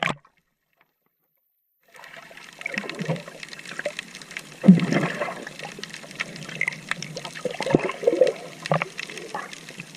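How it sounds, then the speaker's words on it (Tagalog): Sea water sloshing and splashing near the shore, a close, uneven wash of water that starts after about two seconds of silence and surges in bursts. "Nandito na sa dagat."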